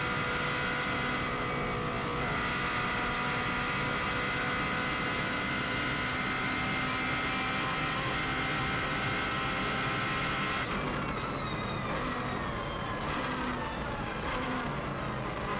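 A Subaru car engine at the Isle of Man TT roars steadily under hard acceleration, a loud, dense, continuous drone that shifts in pitch partway through as the car pushes on toward the next corner.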